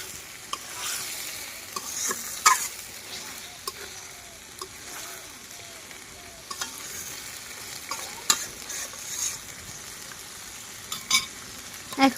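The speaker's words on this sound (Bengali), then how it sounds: "এই যে এইভাবে হচ্ছে 3 থেকে 4 মিনিটের মতো আমি মাংসটাকে ভেজে নিয়েছি" Chicken meat frying in a pan for a village-style chicken curry, a continuous sizzle with scattered scraping stirs and clinks, close and steady with no talk.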